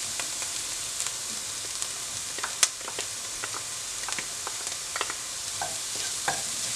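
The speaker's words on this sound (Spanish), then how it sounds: "Miren, ya nuestra cebollita ya se está acitronando. Ahora le vamos a poner el ajo." Onion and garlic sizzling in a pan for chiles en nogada, a steady hissing fry with scattered pops and crackles, close and continuous, no talking.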